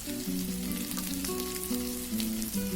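Mutton pepper fry sizzling steadily in a hot pan, a close, continuous frying hiss with no talk, while a melodic tune plays over it.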